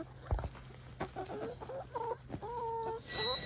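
Chickens cluck and chatter in short, repeated calls, fairly close and moderately quiet, with no talking.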